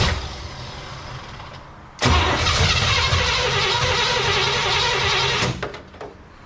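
A 1961 Cadillac engine with a rebuilt but poorly running carburetor cranks and catches abruptly, then runs loud and rough close by for several seconds before dropping away, with a few knocks and clunks at the end.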